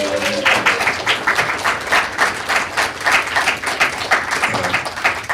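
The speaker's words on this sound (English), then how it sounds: "how about a collective round of applause for all those amazing people" Sustained applause from a sizable audience, dense steady clapping filling the room without letup.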